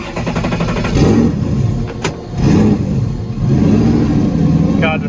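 A car nicknamed El Toro, fitted with a Haltech dash, cranks over after its battery had gone dead, then catches and revs in loud, rising and falling bursts that run through most of the moment, with voices talking over it.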